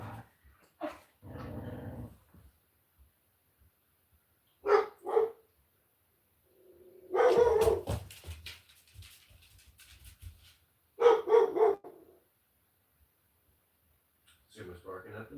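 A dog barks and growls at the neighbours in several short, rough bursts spread across a quiet room, with soft noises between them.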